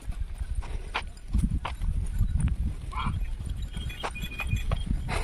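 A mare walks among hillside bushes, her hooves clopping in an uneven series of close, distinct thuds with rustling between steps, and faint voices in the background.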